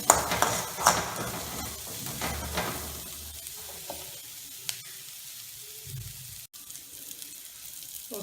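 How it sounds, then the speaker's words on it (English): Red chili powder, turmeric and asafoetida sauté in oil over a low flame for toor dal fry. A soft sizzle runs with stirring scrapes, busier during the first few seconds, then settles to a quieter simmer with no talking. "Red chili powder, turmeric, and the asafoetida. In the low flame, just saute for some 1 to 2 minutes."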